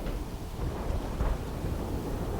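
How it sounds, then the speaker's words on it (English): Steady wind roaring at altitude in the video game Starfield, a broad low rumble with gusty swells and no voices. "Lots of windy noise up here."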